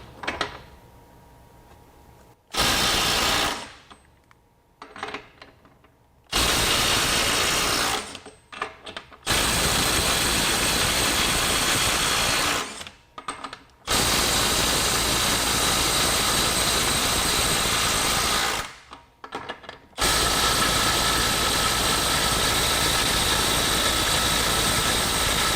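A DeWalt DCF923 Atomic 3/8-inch impact wrench hammers a 33 mm socket through an adapter at 150 foot-pounds in several long, loud, buzzing bursts of rapid impacts separated by short silences.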